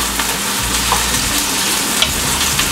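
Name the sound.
pancit noodles cooking and being turned in pan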